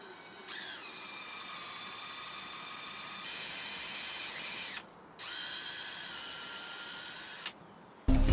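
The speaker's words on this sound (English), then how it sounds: "Drilling." A small electric drill whirs in two sustained bursts into a maple bonsai branch for grafting, its pitch steady with a brief pause between, followed by a sudden clunk.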